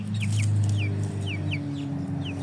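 Young Shamo and Indio Gigante chicks, about a month old, give several short high peeping calls at intervals over a steady low hum.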